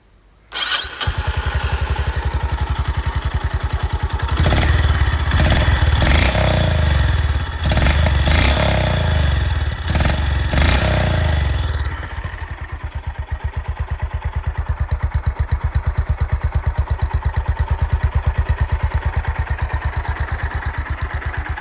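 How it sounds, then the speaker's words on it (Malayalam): A Honda CB 350 motorcycle starts up close, then gives a few throttle blips of its exhaust note before settling into a steady, thumping idle that continues to the end, with no talking. "ജസ്റ്റ് എക്സോസ്റ്റ് നോട്ട് ഞാൻ ഒന്ന് കേൾപ്പിച്ച് തരാം."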